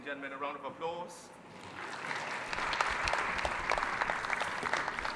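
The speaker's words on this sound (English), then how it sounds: "Ladies and gentlemen, a round of applause." An audience at the Ghana Digital Innovation Week launch breaks into steady applause that builds after a brief spoken lead-in and continues as a dense, even wash of clapping.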